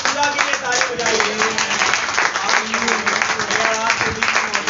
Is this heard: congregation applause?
yes